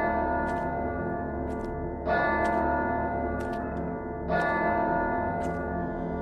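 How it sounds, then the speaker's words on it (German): Bell tolling in the video game Das Labyrinth des Grauens, a deep church-like bell struck twice with long resonant ringing over a constant background hum, alone without voices. "Was ist denn dieser blöde Glockenschlag hier?"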